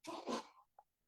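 A single indoor human sneeze, a loud burst with a drawn-out breathy tail and a small sniff just after, then silence.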